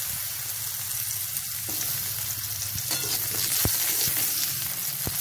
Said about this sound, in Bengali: এরপর আমি ওই তেলেই পটলগুলো লাল করে ভেজে নেব।